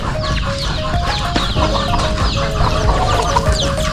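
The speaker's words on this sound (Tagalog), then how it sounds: "Tingnan po natin itong mga alaga niyang mga manok." Several chickens cluck continuously nearby, overlapping calls forming a busy, loud farmyard chorus with no talking.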